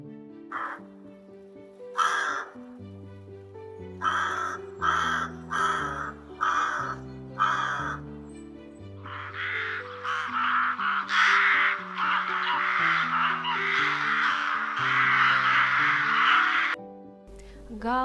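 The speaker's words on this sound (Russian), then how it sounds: "Грач." Rook, a city crow, giving a series of harsh, rasping caws, several short separate calls then a long dense run of cawing, loud and close over a soft musical background.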